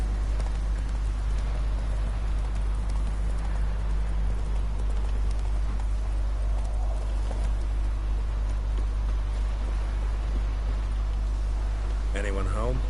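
Roach, a horse in The Witcher 3, trots with steady clip-clop hoofbeats under continuous ambient noise that sounds like rain, while someone speaks briefly near the end.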